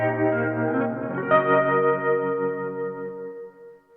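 A Meris Mercury X reverb pedal with its high frequencies turned down, a sustained chord wash that swells with a brief accent and then slowly decays over about four seconds, darker and warmer in tone, with no voices.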